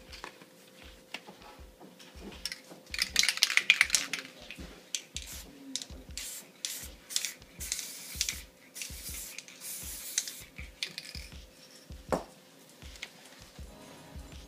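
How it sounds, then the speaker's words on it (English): Repeated short hissing bursts of an aerosol spray paint can used on a graffiti black book, a rapid series of sprays followed by a longer steady hiss, close up with no talking. "When you use spray paint,"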